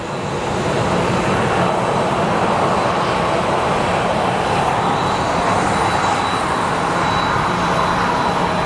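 A jet airliner at Sky Harbor Airport during gate pushback produces a loud, steady engine roar and rumble that fills the scene continuously, with no voices.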